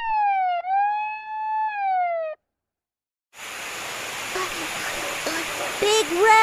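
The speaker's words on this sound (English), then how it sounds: "Lil Red turns on his siren, but it sounds so weak." A cartoon police car siren, thin and weak, wails in a steady rising-and-falling tone, then drops into silence before a soft rushing background with faint narration takes over.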